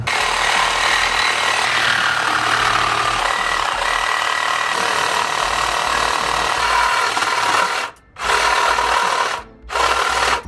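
A Sawzall reciprocating saw cuts through metal while an LS engine is test fitted into a car, making a loud, continuous buzzing rasp that pauses briefly twice near the end.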